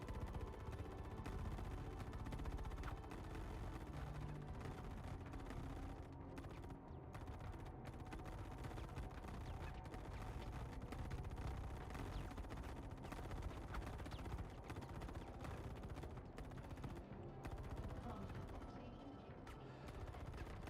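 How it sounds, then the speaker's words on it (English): Continuous rapid video-game gunfire and bursts of shots roll on without pause, dense and steady throughout. "I'm hearing gunfire."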